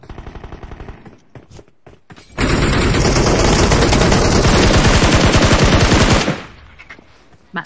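Automatic gunfire rattles in a shooting video game, with a few short scattered bursts followed by a loud, sustained stream of rapid shots that lasts several seconds before cutting off.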